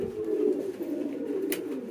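Pigeons kept by a breeder coo in a low, steady rolling murmur close by, with a brief sharp click near the end and no talking.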